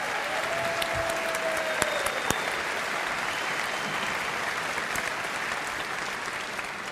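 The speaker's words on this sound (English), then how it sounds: "Can you just give her a round of applause" A large crowd at the Reform UK party conference gives sustained, even applause, dense and continuous for several seconds with no one speaking over it.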